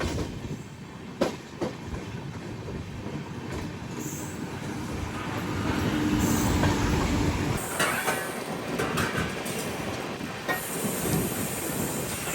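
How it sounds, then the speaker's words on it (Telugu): An Amrit Bharat Express train passes over a crossover near Mumbai LTT, with a steady rolling rumble, rhythmic wheel clatter and brief squeals of wheels on the rails, close and loud throughout. "Amrit Bharat express cross over."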